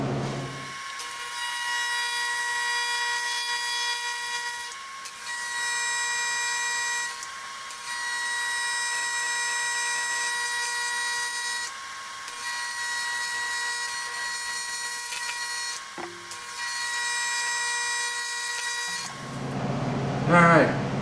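Steady electric welding hum on a motorcycle crankcase, with several long continuous buzzing runs separated by short pauses, fairly loud and close.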